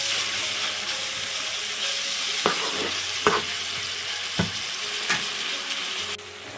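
Red, green and yellow capsicum fry with salt in a pan for a doner kebab biryani, a steady sizzle broken by a few sharp scraping stirs of the spatula, close and alone with no voices.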